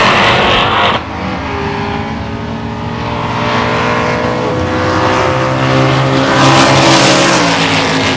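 A 1970 Chevelle and a red Thunderbolt muscle car race side by side at a drag strip, their engines roaring loud and close as they rev and climb through the gears in one sustained, rising blast.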